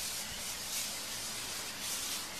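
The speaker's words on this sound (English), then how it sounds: "You're going to spray it with a little bit of Pam or some type of cooking spray." Cooking spray hisses steadily out of a can onto tin foil being used as a fish grate, a continuous close broadband spray with slight pulses and no voices.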